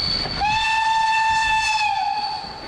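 A nearly 70-year-old steam locomotive arriving at Wolsztyn station in Poland sounds a long, loud multi-tone whistle that holds steady for about two seconds before fading, over low rumbling of the train.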